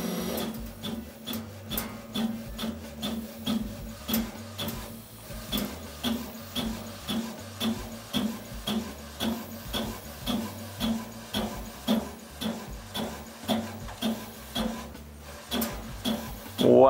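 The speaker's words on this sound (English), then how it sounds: "I'll be printing our face on there" A food printer works steadily as it prints a face onto food, giving a fast, regular mechanical clatter of repeated pulses with no talk over it.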